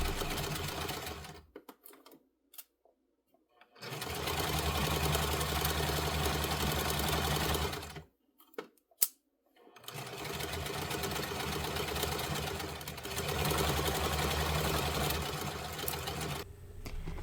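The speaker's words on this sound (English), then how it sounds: "I just went straight to my sewing machine and made 2 pillows" A sewing machine runs in long bursts of rapid, steady stitching, pausing twice with brief clicks between runs, close up.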